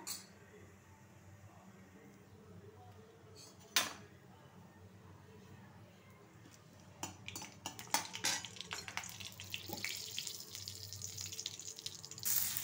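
Cumin seeds dropped into hot oil in a kadai give a soft, steady sizzle with crackles, building louder about halfway through and continuing under a few faint clinks.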